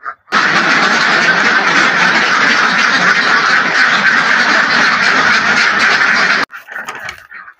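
A large flock of egg-laying ducks on a farm quacks continuously and loudly in a dense chorus, stopping abruptly near the end with a few faint scattered sounds after.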